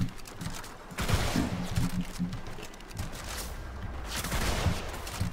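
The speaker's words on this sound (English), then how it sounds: "the fact that my shotgun can kill you guys from up here, this thing is a little absurd" Repeated shotgun blasts from the game Warframe sound in quick bursts amid chaotic combat effects, moderately loud with no talk.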